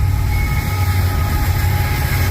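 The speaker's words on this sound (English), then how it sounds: "We got one coming through right now, a train." Intermodal freight train passing on a cold night, a loud continuous low rumble of heavy rolling wheels and engine drone with a faint steady high tone above, close and constant throughout.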